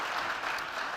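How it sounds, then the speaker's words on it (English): Gala audience of a Hispanic professional women's association giving dancers another round of applause, a dense, sustained roar of clapping close around. "let's give them another round of applause."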